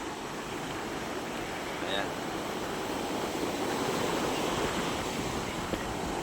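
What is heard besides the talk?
big ocean waves at fish terminal shore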